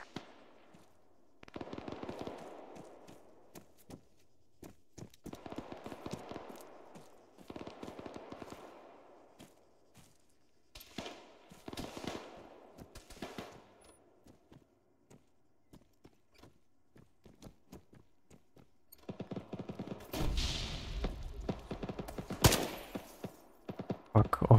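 Friendly fire breaks out in the Antistasi military video game: bursts of rapid automatic gunfire repeat in clusters, then a louder, denser volley with heavy booms near the end.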